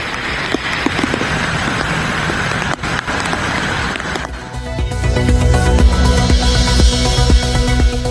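Heavy monsoon rain pours over Maharashtra and Gujarat as a dense, steady hiss for about four seconds. A louder, busier mix of tonal sounds then takes over.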